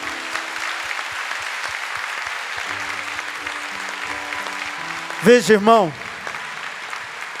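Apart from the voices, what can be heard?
congregation applauding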